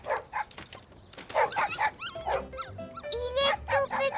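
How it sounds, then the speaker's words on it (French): A tiny puppy whimpers and yips in a string of short, high cries, fairly close, with some faint talk mixed among them. "C'est un des chiots qu'on entend."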